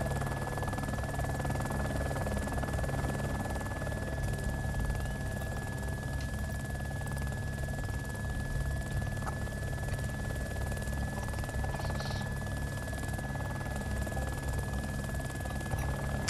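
A helicopter flies in the game DayZ Epoch, heard from inside as a steady, loud droning rotor and engine hum with a constant whine, unbroken throughout with no talk.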